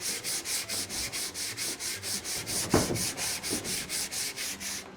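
Close, rhythmic back-and-forth rasping of 100 grit sandpaper rubbed over wood on old furniture, about four strokes per second, steady and even with one brief knock partway through; no voices.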